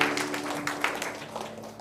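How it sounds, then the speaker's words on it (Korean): Applause at a youth worship service, a short burst of many hands clapping at once, fairly dense and moderately loud, fading slightly over under two seconds. "우리 하나님께 영광의 박수 돌리고요."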